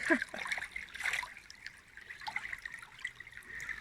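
Faint trickling and splashing of river water in woodland, a steady watery patter with small splashes running throughout.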